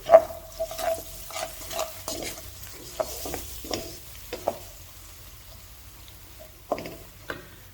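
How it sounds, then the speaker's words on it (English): Spices with red chili and black pepper being stirred in a pan for a Pakistani kebab karahi, with scraping spoon strokes and soft sizzling at an irregular pace, close and fairly quiet. "red chili, black pepper, and I'm gonna stir it"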